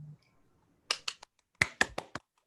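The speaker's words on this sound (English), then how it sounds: "Thank you to the two people that clapped there." A few sparse, sharp claps from two people on a video call, arriving in short uneven bursts separated by near silence.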